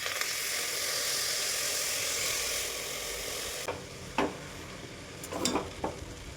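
Fenugreek greens sizzle steadily in a pan, a continuous soft hiss at low level, then a few scraping stirs of a spoon break through near the end.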